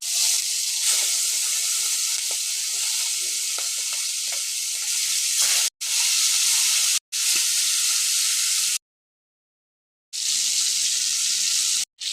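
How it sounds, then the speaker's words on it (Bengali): Loud, hissing sizzle of fish frying in hot oil, continuous and close, broken by a few brief cuts to silence; no speech. "এখন আমি মাছগুলোকে ভেজে নেব।"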